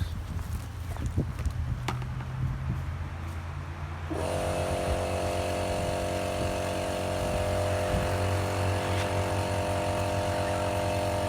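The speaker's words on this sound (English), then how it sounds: "So I'm turning my compressor on and give you a look at what happens." An air compressor kicks on partway through and settles into a steady, loud droning hum with a strong mechanical tone, running continuously to the end after a quieter stretch of background rattling.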